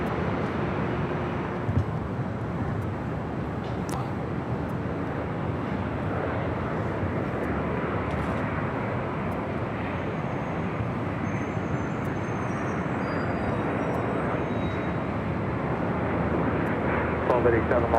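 A Singapore Airlines airliner arrives on runway 24 right at LAX, a steady, distant, broadband jet roar that holds without a break for the whole stretch, with faint background murmur beneath it.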